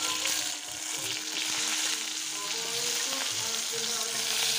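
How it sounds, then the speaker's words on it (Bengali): Cauliflower pieces frying in hot oil in a wok after potatoes were fried, with a strong, continuous sizzle and faint stirring underneath. "কড়াইতে তেল রয়েছে, তেলের মধ্যে আমি ফুলকপিগুলি আগে দিয়ে দেব।"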